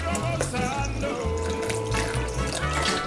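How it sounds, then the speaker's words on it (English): Water being poured into a tomato and jalapeno salsa, a steady, close splashing and trickling stream that continues without pause. "So we're gonna go ahead and add some water"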